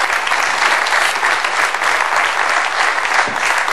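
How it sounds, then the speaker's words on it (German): Studio audience applause at a German MDR television show, loud and sustained clapping from a crowd that holds steady for several seconds without a break. "Applaus"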